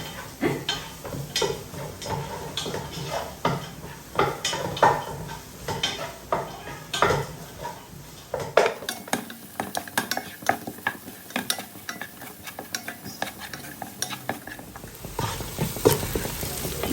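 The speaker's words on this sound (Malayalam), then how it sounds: "ഒരു ഗോൾഡൻ ബ്രൗൺ ആവുന്ന വരെ സോട്ട് ചെയ്യാം." Garlic sautéing in a pan until golden brown, with a steady close sizzle and repeated scraping and stirring strokes of a utensil against the pan throughout.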